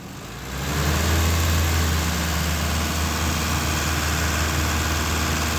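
Car engine revved during an automotive sensor test, rising quickly from quiet into a loud, steady low roar that holds for several seconds, with no speech.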